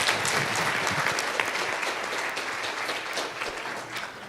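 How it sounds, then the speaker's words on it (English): An audience applauding a panel at a Sunrise Movement event in Asheville, steady full-room clapping that holds evenly and slowly tapers off. "Can we just give one more round of applause to our panel"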